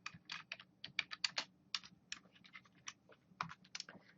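Quiet, close typing of code on a computer keyboard, an irregular patter of light key clicks in short bursts, no talk.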